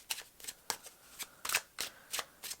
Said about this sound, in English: I just really need to give a good shuffle